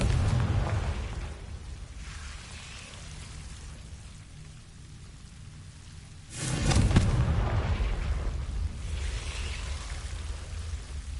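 A Confringo blasting spell explodes in Hogwarts Legacy, a sudden booming burst midway through that rumbles and settles, set against a steady rain-like hiss of ambience.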